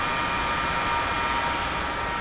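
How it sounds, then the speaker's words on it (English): Right engine of an F-4 Phantom in a flight simulator running after a cold start, a steady loud jet roar and broadband whoosh holding constant with no talk. "Good engine start on the right."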